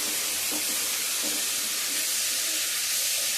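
Chopped tomato and soft ridge gourd fry in oil in a pan for ridge gourd upma, a steady loud hiss with faint soft bumps of stirring and no talking.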